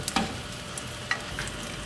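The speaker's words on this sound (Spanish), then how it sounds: "Y de esta manera vamos a freír todos los chiles." Chiles frying in a pan over medium heat for mole in Tlacotalpan, Veracruz, giving a low, steady sizzle with a few brief stirring scrapes, close and fairly quiet.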